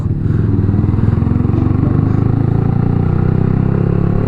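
A customized Yamaha R15 motorcycle runs while being ridden, its engine giving a loud, steady, close-up rumble throughout.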